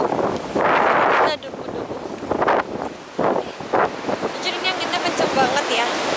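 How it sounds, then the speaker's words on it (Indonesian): Strong wind blasts straight into the microphone in loud, rumbling gusts, rising and falling across the whole stretch while a person talks underneath. "ini anginnya kenceng amat"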